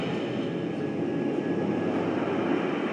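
Airliner jet engines set at 85% thrust produce a steady, loud, broadband roar with a thin high whine running through it, constant throughout with no voices.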